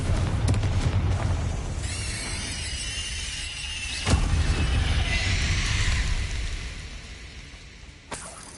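A Confringo blasting spell from the Hogwarts Legacy video game, with a sharp whooshing squeal, then a sudden blast near the middle and a rumbling tail that fades, ending with a smaller impact.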